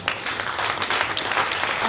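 An audience at a Cannes film panel gives a short burst of applause. Dense clapping fills the room at an even level for about two seconds, with no talk over it.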